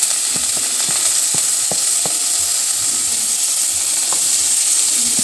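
Chopped onions hit hot mustard oil for cabbage momo filling, giving a loud, steady sizzling hiss close by, dotted with small pops and light spatula clicks throughout.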